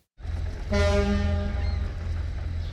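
A boat horn blows one long, steady, deep blast that starts abruptly and holds with a slight fade, loud and close in a clean recording with no voices.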